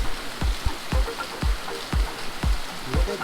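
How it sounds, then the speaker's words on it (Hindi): Heavy rain falling in Mussoorie, a steady wash of drops with repeated low, regular thumps throughout and no talk. "अभी आप देख सकते हैं कितनी अमेजिंग बारिश हो रही है यहाँ पे।"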